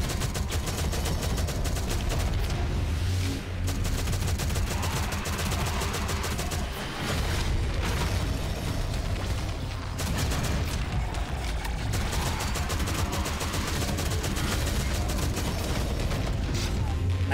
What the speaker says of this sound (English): Freaking Tiago is shooting the boss.